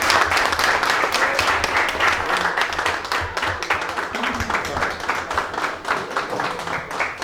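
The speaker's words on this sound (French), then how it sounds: "on applaudit très fort Madame Joseph Bruffard-Thomas." An audience at an event applauds with dense, steady clapping that carries at an even level throughout, with some voices mixed in.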